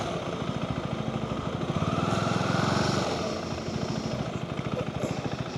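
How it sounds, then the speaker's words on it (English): A kid revving a motorbike engine, a steady close, loud throbbing engine drone that swells slightly in the middle and then settles back, with no talking. "the kid revving the bike"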